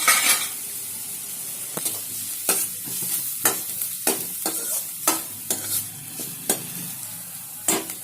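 Green chili fries in a pan for drumstick soup, a constant close sizzle punctuated by frequent, fairly regular scrapes and taps of a spoon stirring against the metal.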